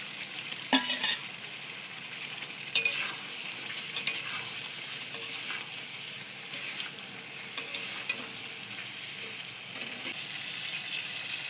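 Potatoes sizzle in hot oil in a pan, with occasional scraping stirs and clinks of a spoon, a steady moderate crackle close by with no talk.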